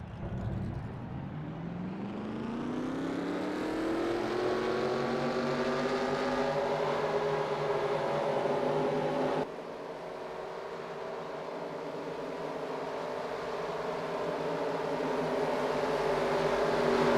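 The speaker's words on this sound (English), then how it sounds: "Drivers, start your engines." Race car engines firing up together in a stock-car racing video game at New Hampshire, a loud droning chorus rising in pitch and then holding a steady idle roar, with no voices.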